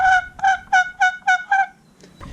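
Six evenly spaced, high-pitched yelping calls from a homemade wooden turkey box call, loud and close, followed by a brief pause and a faint scrape.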